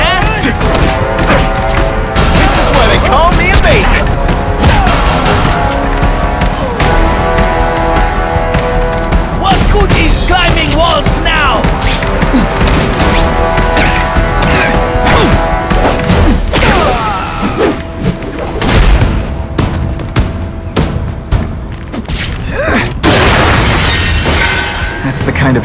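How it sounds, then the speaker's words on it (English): Heavy artillery pounds a combat zone in The Amazing Spider-Man 2 video game, a loud, near-continuous barrage of booms, crashes and shattering debris. Voices are heard amid the din. "That's the kind of heavy artillery you see in the combat zone."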